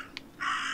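In the video game Martha is Dead, a raven gives a short, faint click and then a single harsh caw that rings out clearly from fairly close by against quiet outdoor ambience, with no voices.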